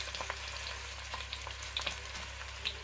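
Sausages brown in a frying pan for a sausage and bean casserole, giving a quiet, steady sizzle with scattered crackles and the occasional scrape of turning.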